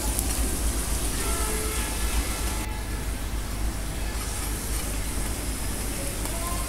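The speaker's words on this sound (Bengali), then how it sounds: "এখন আমি কিছু তেল দিয়ে দিচ্ছি, পরোটা ভেজে নিচ্ছি" Lachha paratha frying in oil in a pan, a constant dense sizzle and crackle that runs steadily throughout with no clear pauses.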